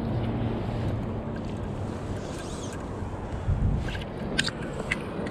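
Wind buffets and rushes over the microphone in a constant roar beside a river pool in Northern Nevada, with water lapping and a few faint knocks near the end.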